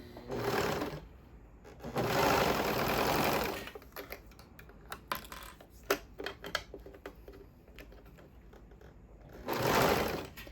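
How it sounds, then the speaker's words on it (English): A sewing machine stitches elastic along the edge of a swimsuit in two loud sustained whirring runs, separated by a stretch of soft clicks and handling noises, then a third shorter burst near the end. "I'm gonna sew right along the edge, not cutting anything off this time"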